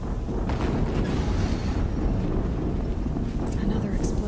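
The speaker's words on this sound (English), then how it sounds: "Another explosion." A dense, sustained rumbling blast fills the soundscape in Horizon Zero Dawn, booming loudly and continuously across the whole moment with a crackling, roaring texture and no pauses.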